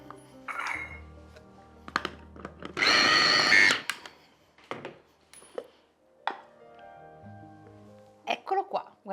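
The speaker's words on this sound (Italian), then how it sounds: "E adesso frulliamo. Aggiungo un altro po' di olio e anche del pepe." Blender whirring through a dense eggplant cream with added oil and pepper, a loud burst of about a second between quieter kitchen clatter and soft handling noises.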